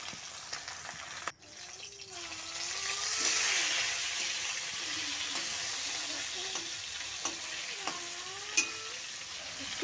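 Fish coated in spices frying in a pan, with a faint, steady sizzle and occasional soft clinks and knocks from stirring.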